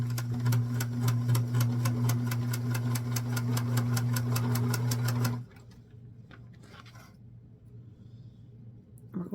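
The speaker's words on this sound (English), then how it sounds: "we're going to sew from the corner of the sleeve down, which will give us a nice tapered fit without the use of darts" Sewing machine stitching a doll dress sleeve seam from the sleeve corner down, a fast, steady, loud rhythmic whirring stitch for about five seconds, then stopping abruptly, followed by quiet faint handling noises.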